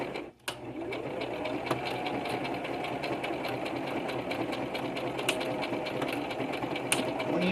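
A sewing machine runs steadily, stitching through a giant paper bag journal, with a continuous close, loud mechanical whir and faint rhythmic clicks after a short pause at the start.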